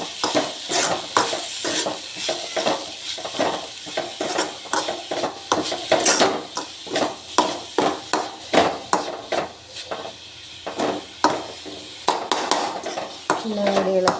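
Taro stem thoran being stirred and mixed in a pan, repeated rhythmic scraping and knocking strokes of a spoon against the pan over a light sizzle, close and fairly loud.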